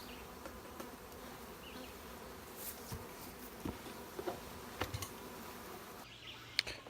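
A steady, low drone of bees buzzing close by in a beeyard on a hot day, with individual insects flying past now and then, no voices.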